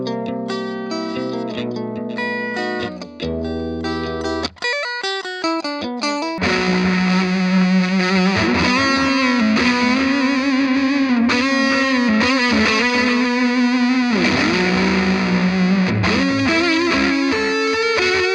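An electric guitar played high up the neck through heavy distortion, starting with quick picked notes and short pauses, then settling into loud, sustained, wailing lead lines with bends.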